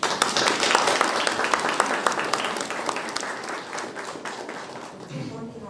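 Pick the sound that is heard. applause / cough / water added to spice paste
applause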